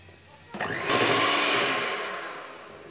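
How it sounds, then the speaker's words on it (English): Chocolate cake batter being mixed: a loud, steady motorized whir kicks in abruptly after half a second and holds, easing off slightly toward the end. "And mix well. See to it that there are no lumps in the batter."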